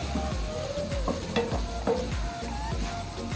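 Vegetables with sugar being stir-fried in a pan for veg noodles, a steady close sizzle with repeated scraping stir strokes and light clinks of utensil on metal, no talking.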